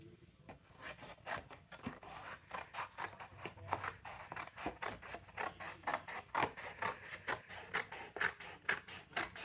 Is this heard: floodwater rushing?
no